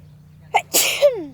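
One sharp, loud human sneeze close to the microphone, a quick intake followed by an explosive burst, alone in a quiet room.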